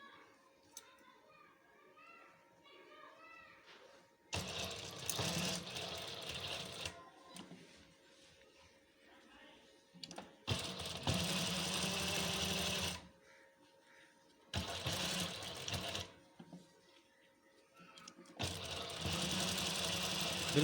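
A sewing machine stitches a cloth face mask with elastic ear loops, running in four loud bursts of several seconds each, with quiet pauses between them and no talking.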